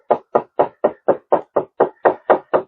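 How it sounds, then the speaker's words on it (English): A hammer taps wood on a deck railing under repair, striking eleven times in a quick, even rhythm. Each hit is close and sharp, with no talking. "And I'm going to take my hammer"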